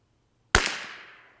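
A Bergara BMR X rifle fires one sharp shot at a range, a sudden loud crack followed by a short decaying echo, alone after a brief silence.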